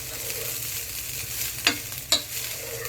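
Chicken pulao rice is stirred in a pot over medium heat, a soft low sizzle under two quick scraping strokes of the spoon close by, with no talk.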